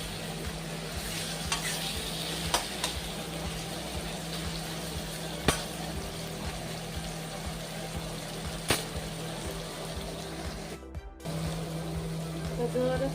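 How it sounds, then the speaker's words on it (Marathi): Chicken for chicken rice fries in oil in a kadai on a gas stove, giving a steady, moderately loud sizzle with scattered sharp ticks and a brief dropout near the end. "आपण चिकन राईस साठी लागणारं चिकन तळून घेणार आहोत कढईमध्ये"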